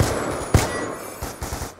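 Gunfire in a first-person shooter match, several sharp shots in a loose burst, one strong crack followed by quieter pops, with no talking over it.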